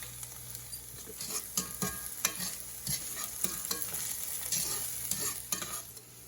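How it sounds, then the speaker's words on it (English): Julienned red pepper and onion sautéing in a pan, a steady close sizzle broken by frequent stirring scrapes and taps of a utensil, with no one speaking. "we've got some really good caramelization on our red pepper and our onion"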